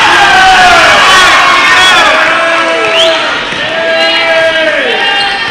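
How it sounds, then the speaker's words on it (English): At a high school volleyball match between the Round Rock Lady Dragons and the Vista Ridge Lady Rangers, the Vista Ridge crowd cheers loudly and continuously in a gym, with shouts and whoops rising over steady crowd noise. "Vista Ridge crowd trying to get behind their team."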